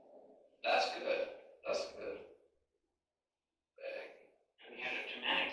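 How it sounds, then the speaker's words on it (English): A person lets out several sharp, breathy gasps and snorts in quick bursts, close to the mic, with a silent gap midway before a longer run of breathy vocal sounds. "We had a dramatic gasp over here."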